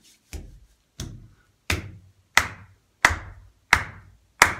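Hands clapping in a steady rhythm exercise, seven sharp claps spaced about two-thirds of a second apart, growing slightly louder, close by and alone in a quiet room.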